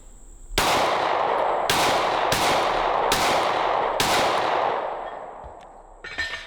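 Five sharp Glock 26 pistol shots ring out loud and close at a steady pace, each with a long echoing tail, followed by a faint clatter.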